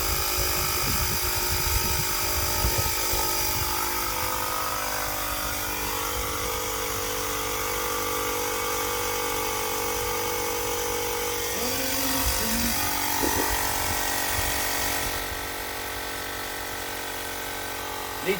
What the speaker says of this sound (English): it's a Hart air compressor from Walmart.